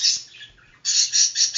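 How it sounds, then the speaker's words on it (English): A lovebird gives bursts of shrill, high chirps and squawks close by, with a brief pause before a second run of rapid repeated calls. "lovebirds are noisy but not loud"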